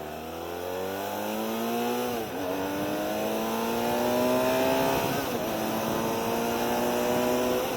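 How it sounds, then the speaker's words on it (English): A BMW F700GS motorcycle on a ride revs hard, its engine pitch climbing steadily, dropping briefly at a gear change and rising again, loud and close with wind rush behind. "It was nice that we were able to rev it out like that"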